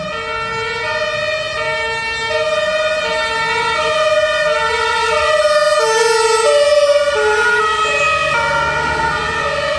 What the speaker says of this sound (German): Das ist ein Rettungswagen.